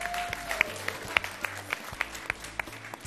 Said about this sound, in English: Mona, clap for them, oh!